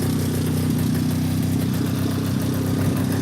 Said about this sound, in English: So keep it idling a little bit low